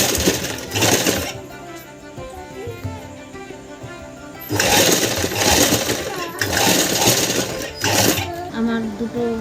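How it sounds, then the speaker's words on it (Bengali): A sewing machine stitches a child's clothing, running in bursts of fast, buzzing mechanical rattle with brief quieter pauses between runs. "মাথায় এভাবে সেলাই করে দেবো।"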